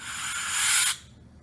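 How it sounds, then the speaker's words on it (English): A compressed-air spray duster gives one short, close hissing blast of about a second onto a Cenco microscope, then cuts off abruptly into quiet. "I'm just going to give it a quick spray with the compressed air"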